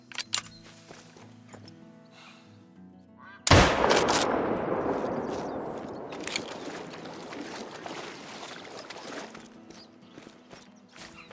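A gun fires during small game hunting outdoors, one loud close blast after a few seconds that rolls off into a long echoing decay, with faint bumps and handling noise before and after.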